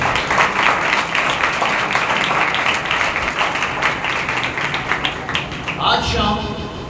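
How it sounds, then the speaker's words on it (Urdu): Loud, sustained clapping from a congregation at a Thursday healing church meeting fills the room, a dense continuous patter that tapers slightly near the end. "آئیں خداوند کو زوردار تالیوں سے ویلکم کریں"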